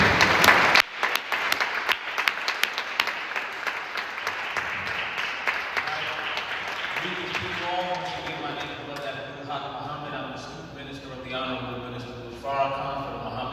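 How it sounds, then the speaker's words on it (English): An audience at a Newark, New Jersey gathering honoring elders of the 1972 National Black Political Convention bursts into loud applause that gradually thins out, with voices rising in the room as it fades. "I want you to give a round of applause and welcome Minister Abdul Haq."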